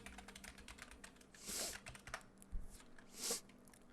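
Computer keyboard typing switch commands, with quick close clicks and a few louder key presses in short bursts, quiet overall.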